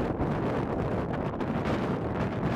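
Strong mountain wind buffets a cliff-side path toward an alpine summit, a loud, steady roar of broadband gusts blasting the microphone without pause and with no voices.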